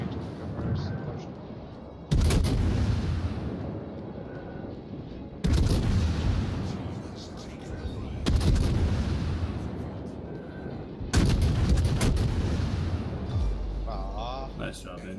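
Heavy naval guns boom in World of Warships while a Minotaur cruiser battles an Iowa, four loud broadband salvos spaced a few seconds apart, each trailing into a rumbling decay, with game ambience between.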